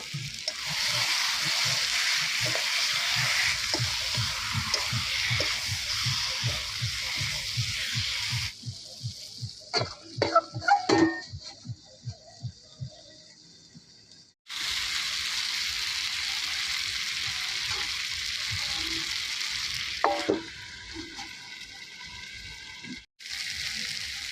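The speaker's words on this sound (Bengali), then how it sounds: "একটু লবণ দিয়ে দেবো এক চামচ ফুল মাংসের সাথে এখন কষানো শুরু করবো মাংস" Chicken pieces with turmeric and salt sautéing in a pan, a dense close sizzle broken by a stretch of clinking, scraping stirring before the frying resumes.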